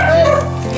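Dog barking and yipping close by in a Filipino home setting, short excited calls with a whiny tone, people talking faintly around it.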